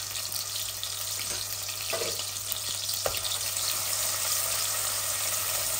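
Garlic fries in hot oil with a steady, fairly loud sizzle and a few sharp clicks from a utensil, no voices.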